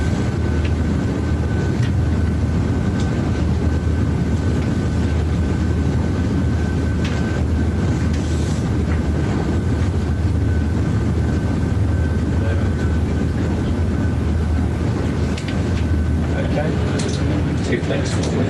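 Aircraft engines roar at full takeoff power on the runway, a loud steady broadband rumble that fills the whole clip while voices talk through the procedure.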